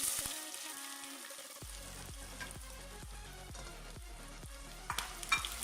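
Chopped onions crackle in hot mustard oil in a village kitchen pan, a dense steady sizzle broken by regular soft scraping knocks of a spoon stirring about every half second, close and fairly loud with no talk.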